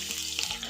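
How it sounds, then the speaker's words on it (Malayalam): Garlic frying in coconut oil with popped mustard seeds, a short steady sizzle that is close and moderately loud, with no talk. "കടുക് പൊട്ടിക്കഴിയുമ്പോൾ നമുക്ക് അതിലേക്ക് ആദ്യം അല്പം വെളുത്തുള്ളി ഇട്ട് കൊടുക്കാം"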